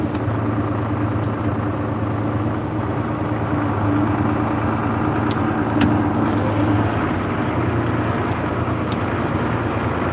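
John Deere 4640 tractor engine running steadily while hauling bales, a continuous low rumbling drone at even loudness with a few faint clicks, no talking.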